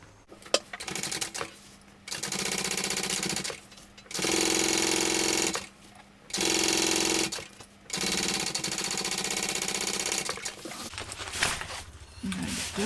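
Sewing machine top stitching through a bag lining, running in several loud, steady bursts of a couple of seconds each, separated by short pauses.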